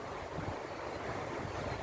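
Ocean waves at the sea at Gangneung, a steady wash of surf with wind rush across the microphone, continuous and fairly loud with no talking.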